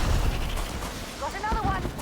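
Gunfire in the space role-playing game Starfield, a burst of booming shots up front that fades into rumble, followed by a short whining tonal effect, with someone talking over part of it.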